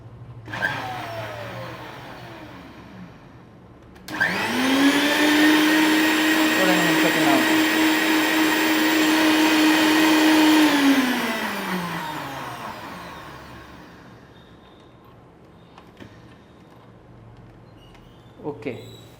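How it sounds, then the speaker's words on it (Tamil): A kitchen mixer grinder blends a Herbalife Formula 1 shake: after a quiet start, the motor kicks in loudly with a steady, high whine for about seven seconds, then spins down and fades out. A soft knock follows near the end. "இப்போ மிக்சியை ஓட விட்டு நம்ம ஒரு சூப்பரான ஷேக் குடிக்க வேண்டியதான்"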